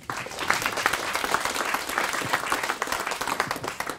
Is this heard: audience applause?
yes